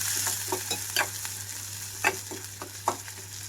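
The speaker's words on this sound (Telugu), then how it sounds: "ఉల్లిపాయలు పచ్చిమిరపకాయలు వేస్తున్నాను వీటన్నిటిని కొంచెం దూరగా వేయించుకుంటున్నాను" Onions and green chillies fry in oil with a soft sizzle, punctuated by several scraping stirs of a spatula against the pan.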